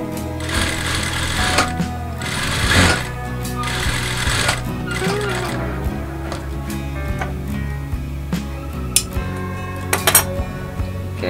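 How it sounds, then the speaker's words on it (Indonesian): Sewing machine stitching a rolled seam along a fabric hem, a steady mechanical whirring hum with a fast needle rhythm, broken by small clicks and taps and short pauses, close up. "Kita jahit di bagian bawah."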